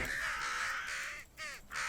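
A crow caws in the Minecraft Naturalist mod, a few harsh calls in quick succession, loud and close, with game ambience underneath.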